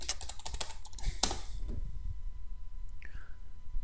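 A computer keyboard clatters as a command is typed, a quick burst of close key clicks for the first second and a half, then near silence with a faint trailing sound.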